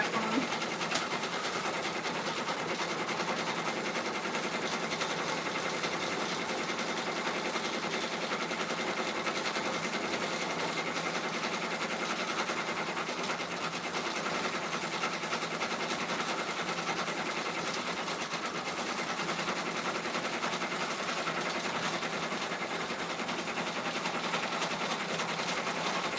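A computerized embroidery machine stitches out a thick satin-stitch bag tag, running in a steady, continuous high-speed whir for the whole stretch with no talk over it.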